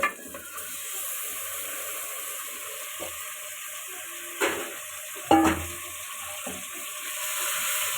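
Steady sizzling of mutton frying in a hot pan, with a few louder clatters and stirring knocks partway through, no voices.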